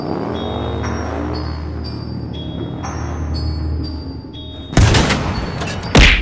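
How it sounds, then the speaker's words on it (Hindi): A cartoon tank cannon fires, two sharp loud booms with broad bursts landing near the end, preceded by tonal game-like music and rumble. "तभी टैंक की गोली चल जाती है।"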